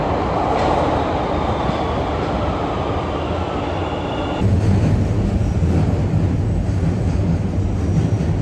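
A Chicago commuter train running along the line, a steady loud rumble and rail noise that grows heavier partway through, heard from inside the car with no talk.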